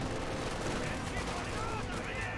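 Dense, continuous rifle and machine-gun fire hits paratroopers in the Company of Heroes 2 video game, a loud battle din under a commentator's voice.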